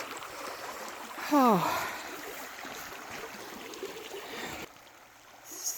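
A creek flows steadily at a trail rest stop in the Black Hills near Mount Rushmore, a soft continuous trickle and gurgle under the whole stretch, with a brief exclamation from a hiker early on.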